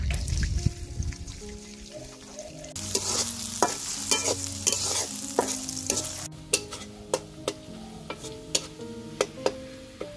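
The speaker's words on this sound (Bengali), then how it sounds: "পেঁয়াজটা ভাজি করে নিছি ভালো করে।" Chopped onion fries in hot oil with whole garam masala for a homestyle chicken biryani, with a steady close sizzle and a spatula scraping and clacking against the pan in a loose rhythm.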